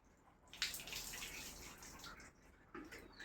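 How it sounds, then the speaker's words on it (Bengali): Water poured over a dog during a bath, a soft close splashing and trickling stream with a few sharper splashes, quiet and continuous with no talk. "ওই জলটা ঢেলেই দাও পুরোটা।"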